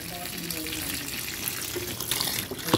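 Water pours into the drum of a Sharp automatic washing machine, a steady close rushing and splashing that runs for a few seconds with faint talk underneath.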